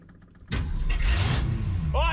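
The starter of a long-abandoned 1962 Ford Thunderbird convertible with a broken Bendix whirs loudly without properly engaging for about a second and a half, close by, with a brief voice at the end.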